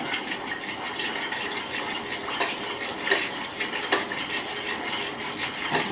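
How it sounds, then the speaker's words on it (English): A spoon stirs boiling caramel sauce in a pot, scraping and clinking against the metal in irregular strokes over a soft bubbling hiss, fairly close and quiet. "Just stir, stir, stir. And boil, boil, boil. To make the caramel sauce."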